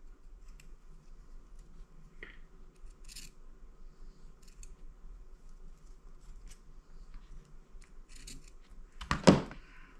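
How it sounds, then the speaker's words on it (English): Scissors snip into fabric at the corners of a Thanksgiving potholder, soft sparse cuts in a quiet room ending with a sharper, louder clip near the close. "I'm going to cut right up to the corner on all four corners"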